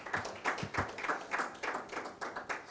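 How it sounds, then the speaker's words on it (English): Applause from an audience at a financial stability symposium, steady rapid clapping that carries on for a few seconds at moderate volume. "Can we please give him another round of applause?"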